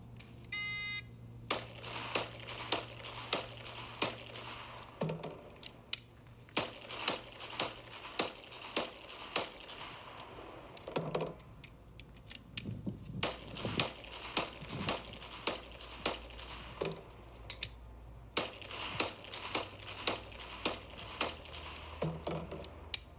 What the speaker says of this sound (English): Now she'll demonstrate shooting 30 rounds, with 6 rounds from 5 separate magazines.